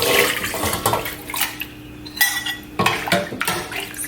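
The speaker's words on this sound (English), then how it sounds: "I'm just going to pour my pork shoulders in." Pork shoulder pieces tip from a container into a pot of water, giving clattering and clinking against the pot, splashes and watery sloshing in uneven bursts, close and fairly loud.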